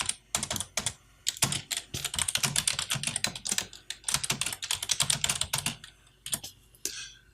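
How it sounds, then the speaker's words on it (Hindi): Rapid, steady typing on a computer keyboard during an InPage tutorial, a dense run of crisp close-up key clicks with brief pauses, ending in a short lull. "अब आप यहाँ पे जितनी मर्जी टाइपिंग करें"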